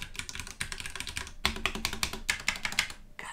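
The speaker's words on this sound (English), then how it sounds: "I'm just gonna hit a couple keys as I'm talking" Mechanical keys on a Ducky One 2 Mini keyboard tapped in quick irregular bursts, close and crisp, with a few brief pauses between clusters of keystrokes.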